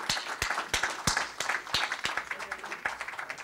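Audience clapping at a ceremony for four journalism fellows of the Dag Hammarskjöld Fund for Journalists, sparse individual claps standing out over a thinner round of applause, fairly close and moderate in volume.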